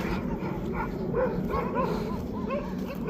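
Several stray dogs in a forest in a video game yip and bark in short bursts, mixed with whimpers, over a constant background rumble.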